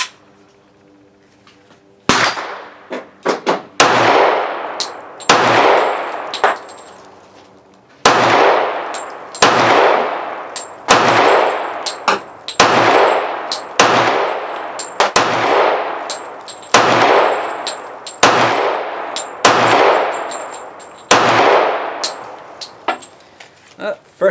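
A Walther PPQ pistol in .45 ACP fired at a target ten yards away at an outdoor range: about a dozen loud, sharp shots with ringing decay, evenly paced with short gaps between them.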